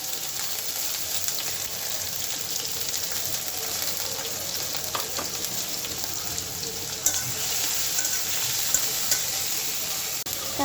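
Onion, garlic and green chili frying in oil for a simple home-cooked Bengali dish, a continuous close crackling sizzle with stirring and clinks of a utensil running throughout.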